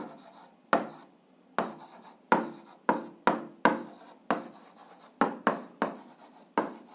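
Chalk or pen strokes tap and scrape in quick irregular bursts while a math expression is written out, each stroke starting with a crisp tick and fading, close and alone.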